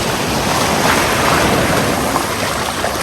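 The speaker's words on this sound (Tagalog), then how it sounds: "Mas malakas yung alon din." Rough surf breaks and washes over a rocky shore at Camara Island, Zambales, as a steady, loud, close roar of churning water with wind buffeting the microphone throughout.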